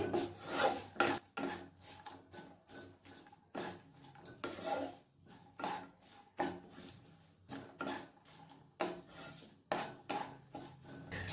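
Dry fruits frying in ghee in a kadai over medium-low heat, with a spatula rasping and scraping across the pan in steady, repeated strokes, close and moderately loud, with no talk.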